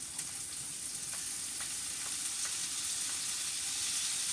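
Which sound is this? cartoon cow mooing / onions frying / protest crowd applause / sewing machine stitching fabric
onions frying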